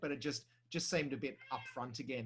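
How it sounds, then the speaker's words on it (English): A house cat meows briefly indoors, mostly buried under a person's steady conversational speech about wine, with the talk continuing around it. "that's my cat, by the way"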